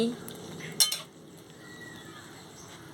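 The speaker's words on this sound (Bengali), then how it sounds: "ভালো করে নাড়িয়ে নিচ্ছি" Eggplant and potato pieces stirred in a pan for a curry, one bright metallic clink of the spoon against the pan, then quiet low sizzling.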